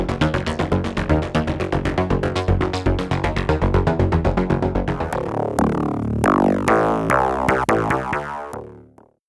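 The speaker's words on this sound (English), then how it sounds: "Transient, created for the sole purpose of making distinct transient hits." Modal Argon8 synthesizer playing its Transient wavetable, a rapid run of sharp, distinct percussive hits that slows into separate ringing strikes and fades out at the end.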